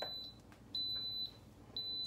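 A Quick Cooker electric pressure cooker beeps after start is pressed on the poultry setting, giving three clear, steady high-pitched electronic tones, each about half a second long and evenly spaced, close and alone.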